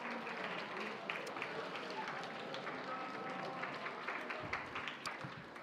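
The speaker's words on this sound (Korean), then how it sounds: "자, 앞뒤로 박수 한번 치겠습니다." Church audience clapping for one another at a welcome gathering, a dense, even patter of many hands at moderate distance holding steady throughout, with no clear voices standing out.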